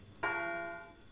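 A single chime from a clock in the Silent Hill video game rings out clearly, bright and bell-like, then slowly fades over about a second with nothing else heard.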